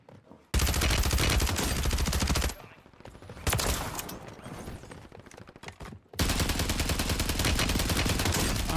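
Rapid automatic gunfire from the video game Call of Duty MW3, loud sustained bursts of shots with a short lull in the middle and another long burst at the end.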